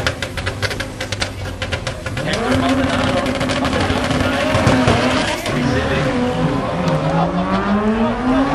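A V Raceworks race car launches down the track, its engine revving up through rising gear pitches and growing loud and close, with crowd and announcer voices underneath.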